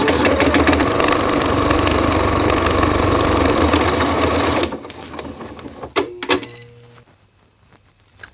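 A sewing machine runs fast and steady as it stitches the seams of a child's Christmas boot, a loud continuous mechanical whir that stops abruptly, followed by a few clicks and handling knocks.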